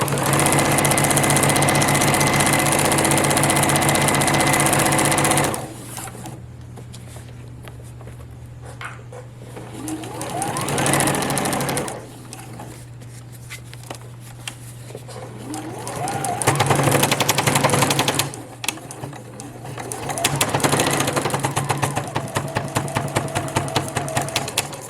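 A sewing machine runs in steady bursts while stitching a shirt into a zippered pillowcase and finishing with a back stitch, its motor hum rising and falling between pauses, loud and close.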